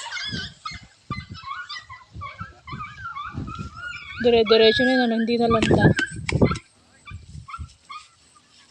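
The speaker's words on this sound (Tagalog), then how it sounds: "Ang daming aso sa kabilang bahay." Several dogs bark and yip in the distance, a busy cluster of barks rising midway, while people talk nearby throughout.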